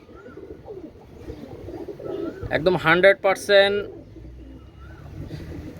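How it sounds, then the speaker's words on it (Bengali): Imported Teddy pigeons cooing close by, soft low throaty coos building to a louder burst of rolling calls in the middle, while someone talks over them. "এ সমস্ত কবুতর দেখলে পরাণ ঠান্ডা হয়ে যাবে"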